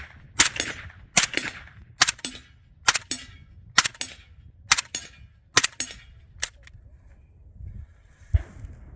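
Suppressed shots from a PTR 9CT pistol at an outdoor range, eight sharp reports in a steady rhythm about three quarters of a second apart, loud and close, with a faint thump near the end.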